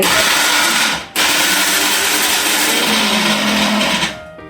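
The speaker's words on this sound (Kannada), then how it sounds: "ಈ ತರ ಜಾರಲ್ಲಿ ತುರಿತೇವೆ ನಾವು" A mixer grinder grinding coconut in its jar roars loudly and steadily, cuts out briefly, then whirs again at full power before winding down.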